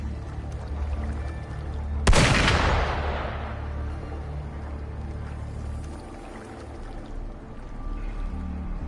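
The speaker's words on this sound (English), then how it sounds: "Gunfire!" A single heavy blast of gunfire rings out in the video game Wuthering Waves, a loud sudden boom that decays slowly over a low, rumbling ambient background.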